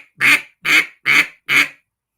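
Four evenly spaced basic quacks are blown on a duck call, loud, close and nasal, each short burst separated by clean silence.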